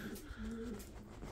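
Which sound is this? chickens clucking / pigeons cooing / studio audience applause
pigeons cooing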